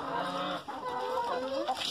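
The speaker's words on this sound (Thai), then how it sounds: "ไก่เรามีกี่ตัว" Hens clucking beside the nest during egg collection, a close, loud run of short rising clucks and squawks with no talk over them.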